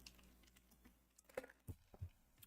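Someone types on a computer keyboard: a few irregular, soft key taps and clacks, with a couple of heavier thumps, faint and close against a quiet background.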